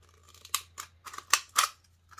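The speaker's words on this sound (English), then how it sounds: "Now you can take your scissors and choose a spot on the can to slice right through." Scissors snip and slice through a thin aluminium drink can in a quiet room, giving a series of about six crisp, close metallic crunching cuts at an uneven pace.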